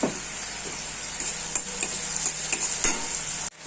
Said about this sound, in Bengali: এই তেলের মধ্যেই আমি পেঁয়াজটা দিয়ে দিচ্ছি।